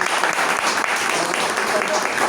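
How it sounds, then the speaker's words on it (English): A small group at a Toastmasters club meeting claps in a brief, dense burst, filling the room throughout with no pause. "Please give a round of applause to"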